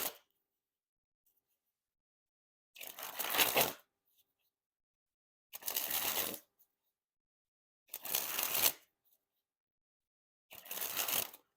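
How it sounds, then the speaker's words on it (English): Theory11 Guardians of the Galaxy playing cards are sprung from hand to hand in four separate bursts, each a quick fluttering riffle of card edges lasting about a second, with near silence between them. "And first we'll start with the springs."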